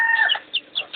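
Short burst of chicken clucking, a few quick squawky notes close by with brief pauses between them.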